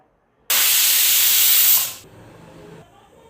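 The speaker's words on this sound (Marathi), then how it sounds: "आता हे कुकरचं झाकण लावूया आणि 1, 2 ते 3 शिट्या देऊया आपण." A pressure cooker of mutton biryani vents steam in one loud, sustained hiss for about one and a half seconds, then drops to a faint residual hiss.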